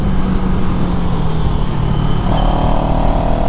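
CFMoto CLX Heritage motorcycle running the same engine as the ER6F, a steady close engine drone with a low rumbling tone that rises in pitch partway through, no talking.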